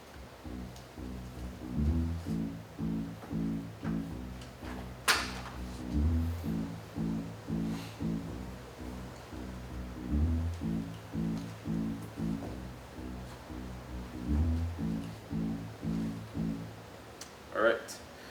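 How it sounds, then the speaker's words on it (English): A looping electronic beat with two layered bass lines repeating in a steady pattern, fairly quiet, with a couple of sharp percussive hits. "So there are two bass lines"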